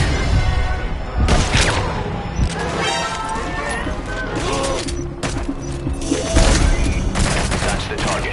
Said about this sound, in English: Suppressor is worn out. That gun will be as loud as any other now.